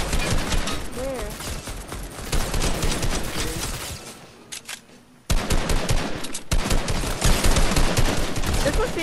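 Rapid bursts of gunfire in Fortnite, loud and close with repeated fusillades, a brief lull mid-way, then more shooting under a person's talk.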